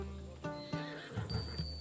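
A horse in the Assassin's Creed video game neighs with a loud, whinnying call, accompanied by a few hoof clops and light game ambience.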